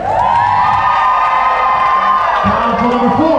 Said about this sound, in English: So give a cheer for couple number two